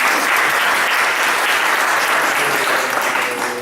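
Loud, dense applause from a large audience at a church convention fills the hall steadily and evenly, holding close and full before easing slightly at the end.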